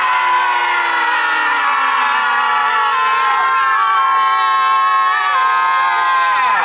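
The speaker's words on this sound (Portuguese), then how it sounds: "ir para a rua e durante uns segundos gritar toda a frustração que sentimos" A crowd of people outdoors shouting out their frustration together, a loud, sustained mass of overlapping yells and screams lasting several seconds without a break.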